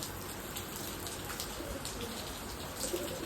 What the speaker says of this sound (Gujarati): વરસાદ જોરદારનો આવી ગયો હે